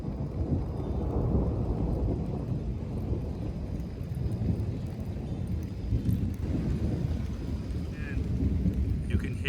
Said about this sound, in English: And you can hear the thunder.